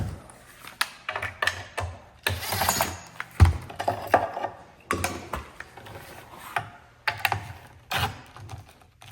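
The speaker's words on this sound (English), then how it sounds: "I'm gonna take off these braces right here first so that we're not wrecking screw mounts." A ratcheting screwdriver backs screws out of the braces of a wooden chair under repair, giving bursts of quick close clicking and ratcheting separated by short pauses and clunks.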